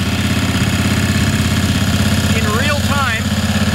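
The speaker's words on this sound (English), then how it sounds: "so we're going to remove that air filter. You'll hear the engine resume to normal" A small engine idles with its air filter removed, a loud steady rumbling throb beneath someone talking, with a brief whining warble rising and falling near the end.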